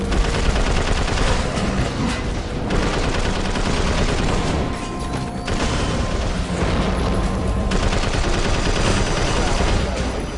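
Gunfire from the video game Prototype 2 is heard as dense, continuous bursts of automatic fire and booming blasts at close range, with a voice briefly under the din.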